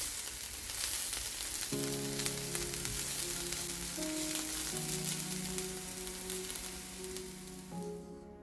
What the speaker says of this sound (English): Fry until soft